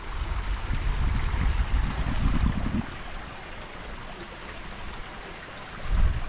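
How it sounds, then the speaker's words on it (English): Steady rushing and trickling of a river in the Northumberland hills fills the scene, with a brief louder swell of low rumble near the start and again at the end. "If you don't like trickling water sounds, that's not a good pitch"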